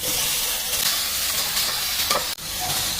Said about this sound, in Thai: ใส่ปลาหมึกปลาหมึกยักษ์